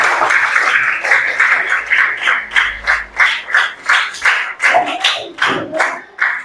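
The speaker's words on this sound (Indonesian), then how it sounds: "Tepuk tangan untuk kelompoknya Anu ya" A classroom applauds a student group, clapping together in a steady rhythmic beat, with pulses close and fairly loud that loosen toward the end.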